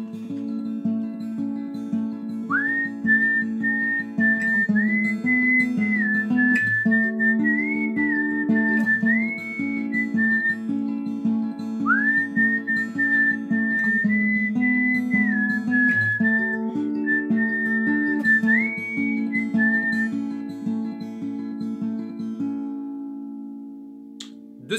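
A whistled melody carries clear sustained phrases over steady guitar chords. It is close and alone, with no talking.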